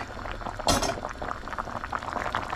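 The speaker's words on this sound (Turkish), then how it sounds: "Şimdi bunu çorbamızın içine döktük" Melted butter with mint is poured from a hot pan into a pot of Turkish yayla soup made with wheat, giving a short close sizzling splash followed by soft bubbling liquid sounds.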